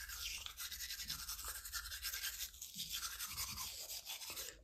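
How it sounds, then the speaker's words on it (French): Steady brushing of teeth with a toothbrush and toothpaste, a continuous close, wet scrubbing hiss with a rapid back-and-forth rhythm that runs throughout without pause. "Voilà ma brosse, voilà ma pâte, mes dents et on y va pour le 16e brossage."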